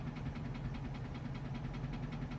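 Car engine idling with a spun bearing, a faint, steady low rumble with a regular rapid knocking pulse running evenly throughout, heard alone with no talking.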